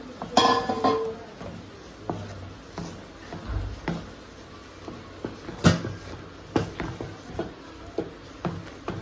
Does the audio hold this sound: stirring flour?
yes